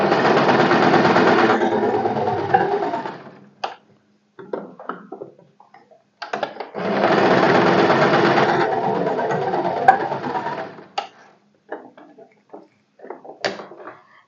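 A sewing machine stitches the shoulder seam of a boat-neck A-line kurti in two long, loud, steady runs, each followed by scattered clicks and handling noises of cloth and machine parts.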